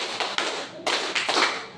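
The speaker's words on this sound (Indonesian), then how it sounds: "Tepuk 1, tepuk 2, tepuk 3, tepuk 4" Hands clap one at a time in a slow counted rhythm during a classroom activity, with several sharp, fairly close claps spaced unevenly and a roomy reverberant tail behind each.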